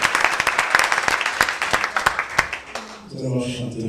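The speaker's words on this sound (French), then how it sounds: "Applaudissons pour Jésus." A church congregation claps for Jesus in quick, uneven bursts that fade after a few seconds, with voices over the clapping and then a calmer stretch of talk.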